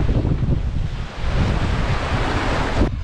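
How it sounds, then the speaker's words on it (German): Strong wind and breaking waves at sea on the North Atlantic, with a loud, continuous roar of gusts buffeting the microphone over surging water. "Endlich wieder mehr Wind."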